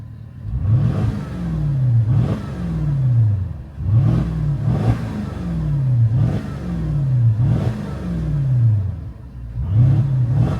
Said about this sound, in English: I'm gonna give this a rev real quick. Let's see how it sounds from inside.